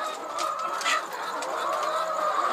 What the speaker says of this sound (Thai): ไก่นะครับไก่